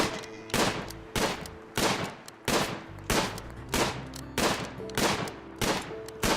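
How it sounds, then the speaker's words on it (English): A stun gun fires repeatedly in the RimWorld video game, each shot a sharp burst recurring at a steady rhythm of roughly one every half second, loud and close with no talk. "this is where John and his stun gun come in handy again"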